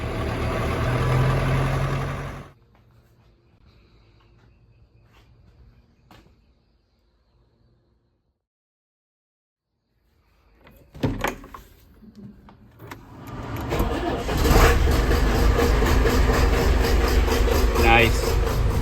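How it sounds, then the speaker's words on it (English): An old John Deere 6300 tractor engine cranks after a quiet pause, then catches and settles into a loud, steady diesel idle nearby, with someone talking before it starts. "we'll fire up the old John Deere"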